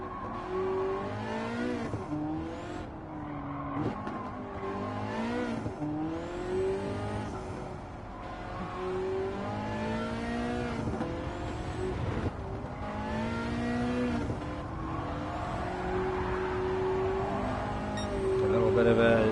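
Race cars roar through a Gran Turismo 7 race, engines rising and falling through gear changes with whining revs, while someone talks over the action throughout.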